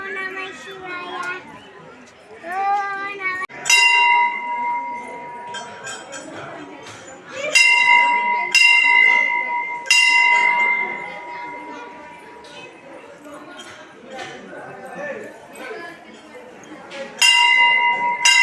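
A bell at the Venkateswara Swamy temple in Tirumalagiri is struck several times, each ring sounding bright and sustained and then decaying. Children and adults talk and chatter throughout.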